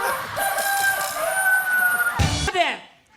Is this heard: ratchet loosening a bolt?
no